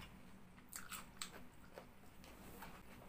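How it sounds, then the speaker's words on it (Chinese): Someone chewing a crisp lotus root snack, close and quiet, with a few sharp crunchy bites followed by softer chewing. "那莲藕呢就比较脆比较香。"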